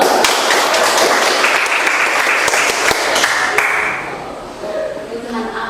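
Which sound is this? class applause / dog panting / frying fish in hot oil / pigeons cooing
class applause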